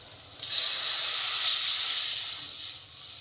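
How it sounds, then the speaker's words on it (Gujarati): Buttermilk poured into a dish while cooking, a soft steady hiss of liquid that starts abruptly, holds evenly and tapers slightly at the end, close and fairly quiet. "હવે અહીંયા આપણે નાખશું છાશ."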